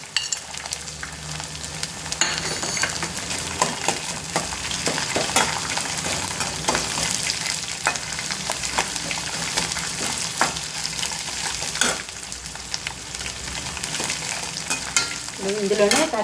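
Ginger, green chilies and dried red chilies fry in hot oil for pulihora, giving a loud, steady sizzle broken by frequent scraping stirs of a spoon against the pan, with no voices.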